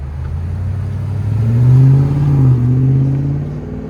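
A deep, throaty Ford F-250 7.3L V8 engine with Borla exhaust rumbles steadily, swelling louder in the middle as it revs gently, then easing back down; close and clean with no talk.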